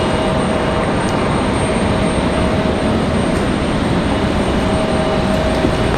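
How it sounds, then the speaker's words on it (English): Delta Airbus A319 airliner taking off from the runway at Raleigh-Durham International, a steady broad roar of engine and rushing noise holding loud and even throughout with a faint steady whine, no voices. "It looked like they were ready to hit the runway there. There they go, finally."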